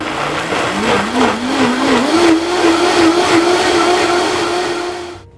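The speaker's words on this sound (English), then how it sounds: "you just want to add your chili mixture into a blender, all of the liquid, and we're going to puree it until it's perfectly smooth." A kitchen blender purees a chili mixture with liquid, its motor whining loudly and climbing steadily in pitch before holding a smooth, constant roar and cutting off abruptly at the end.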